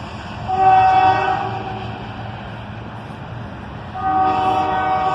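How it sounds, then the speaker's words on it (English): A CSX southbound manifest freight train led by ES44DC and ET44AH locomotives sounds its horn in two loud blasts, one early and one near the end, over a steady rumble of rolling cars. "some quick horn action from the engineer, as an ES44DC and an ET44AH lead a southbound manifest train"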